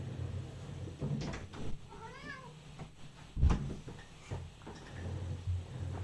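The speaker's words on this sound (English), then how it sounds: "if you heard somebody screaming in the back, that was my cat" A cat howls outside a door with a drawn-out, wavering meow near the middle, surrounded by scratching and knocking thumps on the door, all fairly faint and unaccompanied by talk.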